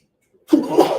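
A single sharp, explosive burst of breath after a moment of silence, short and close.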